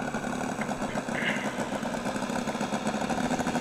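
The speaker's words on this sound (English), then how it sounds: "That is the neatest sounding model engine." A small Saito gasoline radial engine on a model airplane runs at a steady idle, a fairly quiet, even mechanical drone with a faint rhythmic pulse, heard from a short distance outdoors.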